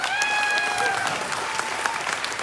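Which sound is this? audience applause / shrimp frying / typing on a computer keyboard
audience applause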